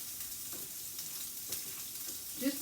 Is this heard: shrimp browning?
yes